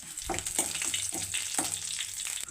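Curry leaves and dried red chillies crackle and spit in hot oil for an appam curry, with a dense steady sizzle and sharp repeated pops close by.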